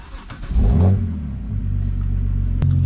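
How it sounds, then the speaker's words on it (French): A BMW car engine with its rear muffler removed runs close by, a brief rising rev building into a loud, deep, steady rumble that settles and holds for a few seconds with no talking. "j'ai enlevé le silencieux en arrière. Donc, ça y donne un petit peu plus le son."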